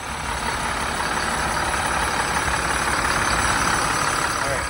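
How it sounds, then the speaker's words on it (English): A school bus diesel engine, recently fixed after water in the fuel pump, runs steadily at close range in a continuous, even drone with no break. "So we got the bus running again"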